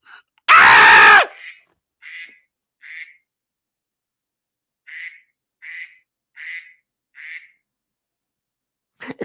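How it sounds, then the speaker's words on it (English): Duck-shaped alarm clock going off, a loud screech followed by a string of about eight short electronic quacks at a steady rhythm, close and alone with silence between them. "My duck alarm clock's going off."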